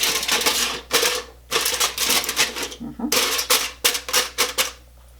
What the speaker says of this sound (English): So we're going to put our aluminum foil in there.